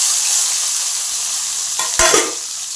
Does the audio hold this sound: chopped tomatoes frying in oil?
yes